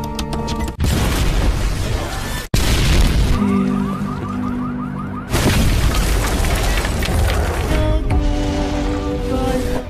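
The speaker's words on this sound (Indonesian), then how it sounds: "terjadi ledakan besar di dalam kantor" A large explosion goes off inside an office at a military camp in an animated story, heavy booming blasts with sharp cuts between loud dense bursts and a quieter ringing, tonal stretch in the middle.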